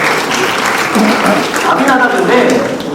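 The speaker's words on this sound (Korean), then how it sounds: "박수 한번 주시죠." Youth group congregation applauding in a church hall, a steady wash of clapping that runs the full length while voices and cheers mix in underneath.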